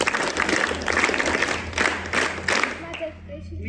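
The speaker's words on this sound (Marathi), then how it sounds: "टाळ्यानी आपण तिचं कौतुक करूया." Students at a residential primary and secondary school clap together in a short burst of applause that tapers off, with a voice briefly audible under it.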